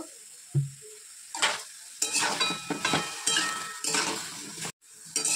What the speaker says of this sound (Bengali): লবণটা দিয়ে দিলাম এবার নেড়ে চেড়ে ঢাকা দেব